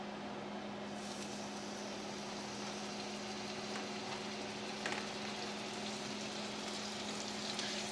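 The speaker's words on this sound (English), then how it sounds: "Salmon is cooking." Salmon frying in olive oil in a pan over medium-low heat gives a steady, soft sizzle with a faint background hum and no talk.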